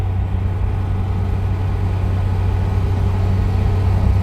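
A Voltarent car cruising at about 100 km/h gives a steady low engine drone and road rumble inside the cabin, even and unbroken throughout with no talking.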